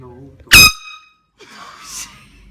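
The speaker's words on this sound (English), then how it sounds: "Was that an air horn?" A single loud, blaring air horn blast bursts in abruptly for about a quarter second, followed by a shocked person talking.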